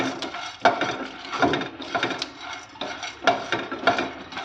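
Peanuts and roasted gram dal being dry-roasted in a pan, with repeated scraping and clinking of a utensil against the metal, in irregular bursts of stirring close by.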